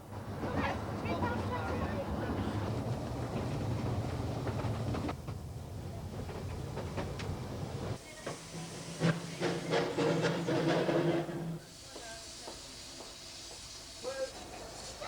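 A steam locomotive on the Ffestiniog line at Porthmadog hisses steadily with rumbling running noise, then quieter chuffs and clanks with a shriller steam hiss, heard at moderate distance.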